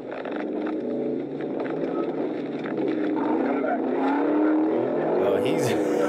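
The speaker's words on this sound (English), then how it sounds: "He's downshifting, revving it." A car engine roars and climbs in pitch as it revs while downshifting during a street-racing police chase, loud and steady under a person talking over it.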